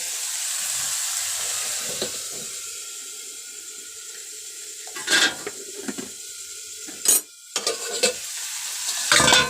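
Onions frying in a pan are stirred with a spoon after sugar is added, with a soft background sizzle and several sharp scraping stir bursts near the end, close and fairly quiet.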